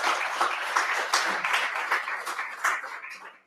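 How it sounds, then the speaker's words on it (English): A short burst of audience clapping after a talk at a Go programming meetup in Zürich, moderately loud, with uneven individual claps that taper off within a few seconds. "Round of applause."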